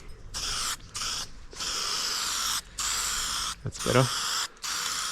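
Aerosol spray paint can with a swapped etch-primer nozzle sprays an aluminium boat in several close, hissing bursts of about a second each, separated by short pauses, with someone briefly speaking.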